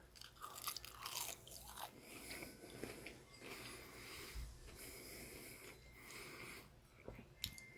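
A Burger King onion ring being bitten and chewed up close, crisp crunches and mouth noises over a faint background hiss, fairly quiet, with no talking.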